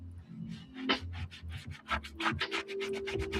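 A sponge scrubs Nike Foamposite sneakers in rapid back-and-forth strokes, producing a close, soft rhythmic rubbing and scratching at a steady brisk pace with no talking.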